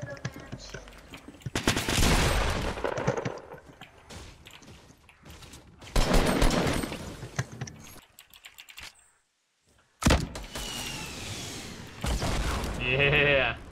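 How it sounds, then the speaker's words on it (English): Bursts of rapid gunfire from the Fortnite battle royale game crackle in dense volleys, fading between fights and returning sharply, with voices talking in between. "Lots of gunfire."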